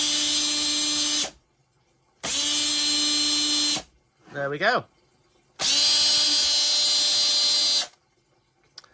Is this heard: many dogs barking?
no